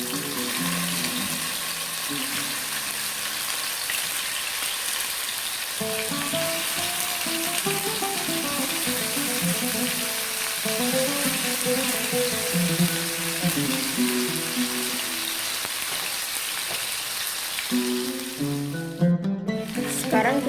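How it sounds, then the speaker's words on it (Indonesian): Chicken wings fry briefly in hot oil in a pan, giving a continuous, dense sizzle and crackle throughout with tonal background sound over it and a few stirring or turning noises near the end. "sekarang di sini sudah saya panaskan minyak ya untuk menggoreng sayapnya."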